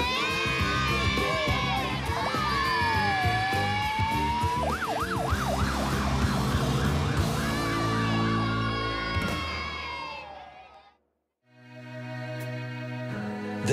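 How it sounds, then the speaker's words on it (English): Emergency vehicle sirens, likely NSW fire brigade, wail loudly and continuously, rising and falling in overlapping tones, then cut out briefly before a lower siren tone resumes. "You want to hear the sirens?"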